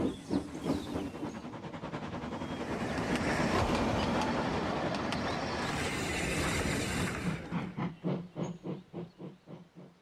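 A steam locomotive runs along rails with a steady hissing roar that swells loud and close, then settles into a distinct, slowing chuff-chuff rhythm near the end.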